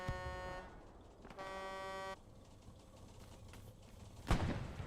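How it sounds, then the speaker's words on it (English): A vehicle horn in a video game honks in celebration, two sustained toots about a second each with a pause between, fairly clear over quiet background rumble, followed by a brief thud. "A celebratory honk from Ferno."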